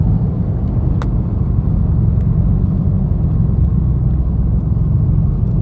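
A 2013 Dodge Charger R/T with a 5.7L Hemi drives steadily down a country road with a low, constant engine and road rumble, heard from inside the car; a few faint clicks.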